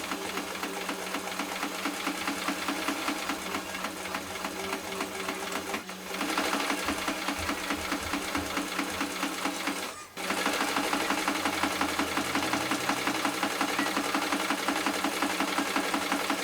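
Sewing machine stitching a straight seam on cotton quilt fabric, a close, steady rapid clatter running continuously with two brief pauses, no voices.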